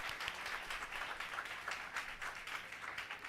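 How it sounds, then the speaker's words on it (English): Audience applause for teachers at an institute of information technology event, a faint, steady patter of many hands clapping through the whole stretch, heard at a distance and without talk. "please give a big round of applause for all the teachers present here"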